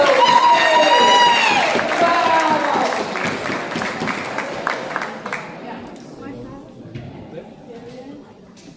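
Audience applause at a public meeting on Disney and the Orange County, Florida public school system: a dense patter of clapping that follows a voice, peaks, then thins and fades over several seconds, with a brief exclamation from someone.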